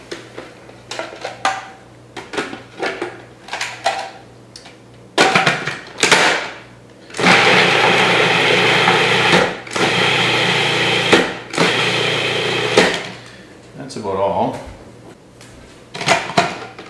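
A food processor chopping smoked medium-rare prime rib runs in loud bursts of whirring motor, with clunks of the lid and bowl between pulses.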